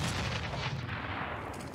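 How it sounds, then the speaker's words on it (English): Muffled gunfire in Counter-Strike: Global Offensive on the Cobblestone map during a professional grand-final match, a dense, steady rattle of shots blurred under low game noise, fairly quiet and continuous. "Opening from Pasha for take down Taz"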